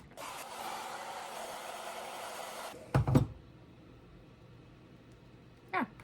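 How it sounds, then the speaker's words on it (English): A hair dryer blows steadily for a few seconds while drying theatrical stage makeup for a wound effect, then cuts off, followed by a couple of brief handling knocks. "So let's use the hairdryer and dry it out."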